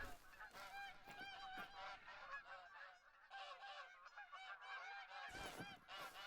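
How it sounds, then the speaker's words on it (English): Canada geese honk repeatedly in theHunter: Call of the Wild, a run of nasal calls in uneven bursts, some close and loud, others softer, over quiet outdoor ambience. "Keep hearing the Canadian goose."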